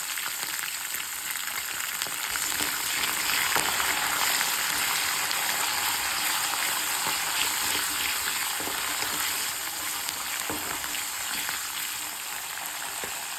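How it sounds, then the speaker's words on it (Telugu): Green chilies fry in a pan for a lemon rice dish, a steady close sizzle with faint scraping stirs throughout. "ఆల్రెడీ పచ్చిమిర్చి మంచిగా వేగినాయి."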